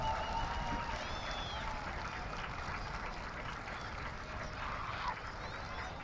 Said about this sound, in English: Blaha getting that standing ovation from the crowd